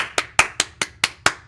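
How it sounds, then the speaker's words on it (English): Six sharp, evenly spaced hand claps in quick succession, close and dry, making up a badge clap with nothing else heard. "Is that the badge clap?"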